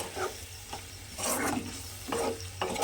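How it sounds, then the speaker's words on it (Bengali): Smashed cabbage stir-fried with spices in a pan, heard as a few separate scraping stir strokes over a low background sizzle, close by, with no voices. "দিয়ে খুব ভালোভাবে মশলার সঙ্গে মিশিয়ে আমি একটু কষিয়ে নেব"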